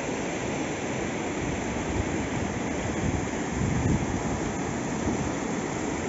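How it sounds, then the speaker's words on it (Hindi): A mountain stream at a trout valley lake campground rushes steadily with a broad, continuous hiss of flowing water, loud and close, with no voices. "बहुत ही प्यारा पानी है, उछलता कूदता उछलता कूदता चले जा रहा है।"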